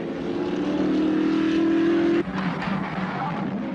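A 1955 Mercedes-Benz Formula One race car roars loudly with a steady high engine tone that cuts off abruptly, leaving a rougher, lower engine drone.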